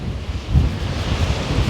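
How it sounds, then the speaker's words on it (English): Blustery wind at a wild camping spot on Loch Einich buffets the microphone in a steady low roar, swelling in rough gusts over about two seconds. "we're getting gusts hitting us every 20-30 seconds"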